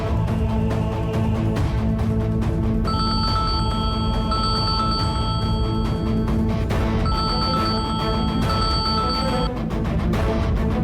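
A phone rings loudly in repeated electronic bursts over background music, with short gaps between the rings.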